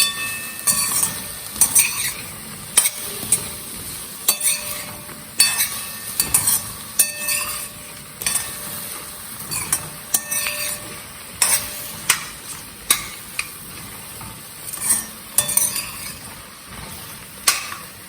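A spoon stirs potato and cauliflower soup ingredients in a pot with steady scraping and repeated light metallic clinks, close up and with no talking.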